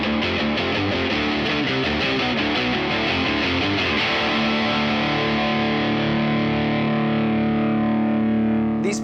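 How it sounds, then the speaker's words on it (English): A Fender Highway One electric guitar through heavy high-gain distortion plays chugging chords in a quick rhythm, then lets one thick, dark chord ring out and slowly fade. "a thick, dark sound that works under extreme high gain"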